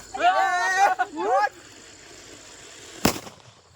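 A single sharp firecracker bang goes off after someone speaks briefly, followed by quiet background.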